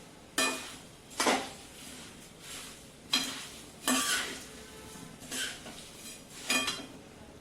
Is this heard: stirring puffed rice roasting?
yes